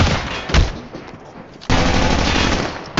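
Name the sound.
gunfire in Call of Duty video game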